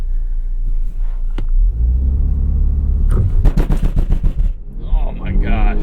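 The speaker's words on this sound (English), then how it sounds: "Gets the engine going." A 2021 Volvo XC60 T8 Polestar engine rumbles up from idle and then surges loudly in a burst of throaty revs before settling, with a voice near the end.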